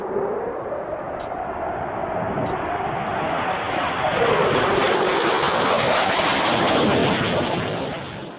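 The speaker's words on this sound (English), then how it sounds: "this F-15 fighter jet makes an awesome low pass" An F-15 fighter jet makes a low pass, its engine roar building into a loud, broad rushing blast that sweeps through and stays intense before starting to fade.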